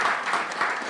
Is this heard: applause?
yes